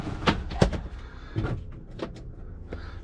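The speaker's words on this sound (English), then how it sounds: "let me open the old tamper door there" An old door on a self-built campervan is worked open with a quick run of close wooden clunks and knocks, followed by a few softer rattles.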